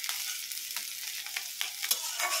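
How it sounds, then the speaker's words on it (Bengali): Onion and green chilies frying in a pan, a soft, fairly faint steady sizzle with light intermittent stirring scrapes close by. "তো এখানে পেঁয়াজ কাঁচামরিচ দিয়ে দিয়েছি,"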